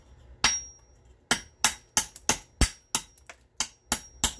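Flint gunflint being trimmed by knapping, a series of about eleven sharp, bright clicking strikes at a steady, slightly irregular rhythm, close and distinct with quiet gaps between blows.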